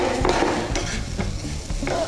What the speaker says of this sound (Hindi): अभी हम इसमें डालेंगे चिकन